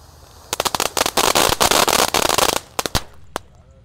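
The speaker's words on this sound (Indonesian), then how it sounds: "ini yang ukuran 4 inci conic fountain. Yang ini ada pretek bola warna-warninya bosku." A 4-inch conic fountain firework loaded with colored balls erupts outdoors in the morning, giving a loud burst of rapid crackling and popping that runs dense for about two seconds and then thins to a few scattered pops.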